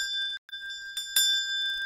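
Small bells ring out in clear, sustained metallic tones, briefly cut off, then chime again with a bright clinking strike near the middle before fading.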